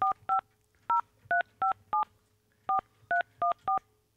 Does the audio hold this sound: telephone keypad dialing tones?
yes